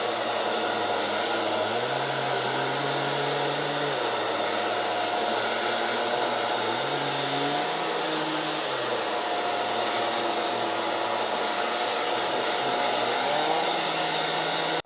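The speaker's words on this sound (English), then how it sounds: "I'll go ahead and hit the power button" A Jigoo J300 Pro mattress vacuum cleaner runs steadily over a bed, its loud, constant motor whine filling the whole stretch, with the pitch dipping and rising a few times as the head presses and lifts across the mattress.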